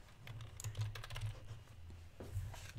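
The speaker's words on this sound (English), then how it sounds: "you can just start typing away" Close, quiet typing on a computer keyboard, a run of light irregular key clicks with a brief lull before a final flurry of taps.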